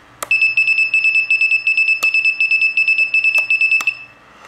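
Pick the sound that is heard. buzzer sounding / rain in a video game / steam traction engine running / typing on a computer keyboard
buzzer sounding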